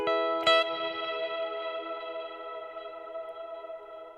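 An electric guitar played through a Kemper Stage with reverb: a single struck chord rings out, then a long, smooth reverb tail slowly fades toward silence with no voices.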